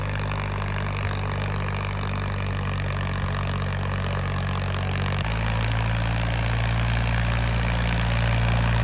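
A Ford tractor engine running steadily and loudly up close, a deep continuous rumble with a slight shift in pitch midway, no voices over it.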